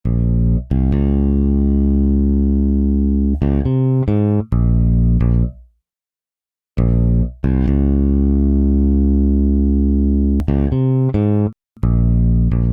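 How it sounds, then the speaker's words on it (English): A heavy, sustained bass line with long droning notes and a few quick runs, loud and up front, pausing briefly before resuming. "You can hear this bass here."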